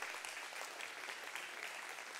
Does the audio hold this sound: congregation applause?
yes